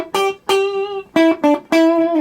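A Schecter guitar with coil split played through a JCA22H amp on its hi-gain channel, with the gain just over one, rings out in five picked notes and chords with slight breakup, each sustaining cleanly before the next attack.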